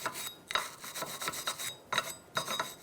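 Repeated rubbing on the clean center of a rear wheel hub on a 2013-2018 Toyota RAV4, close and fairly quiet, coming in several rasping bursts with short pauses between.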